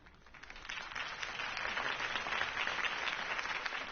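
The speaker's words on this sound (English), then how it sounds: "If only Mr. Wayne, my campaign's largest backer, could have heard that applause" Steady crowd applause rises and holds for a political campaign speech by Harvey Dent in the Batman Telltale video game, a dense, continuous wash of clapping at moderate distance.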